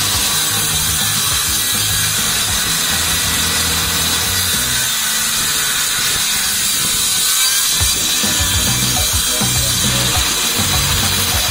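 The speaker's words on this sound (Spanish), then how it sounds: "simplemente cortar una viga a 7 centímetros, poco a poco, porque nuestra máquina no es una sierra profesional" A small non-professional power saw cuts slowly through a wooden pallet beam, a steady loud grinding rasp running without pause and dipping briefly midway, with no talk.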